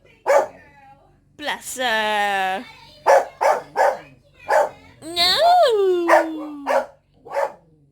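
Several sharp dog barks and yips come in bursts, mixed with a whining howl and someone talking nearby.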